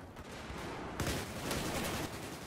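Gunfire in Battlefield 4 on Xbox 360, a dense, continuous rattle of shots with sharper bursts around the middle and no pauses, loud and close throughout.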